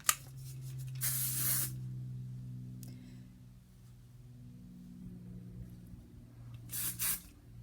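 Two short, sharp bursts of hairspray hiss out, one early and one near the end, over a faint low hum.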